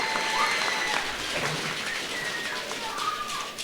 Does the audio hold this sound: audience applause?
yes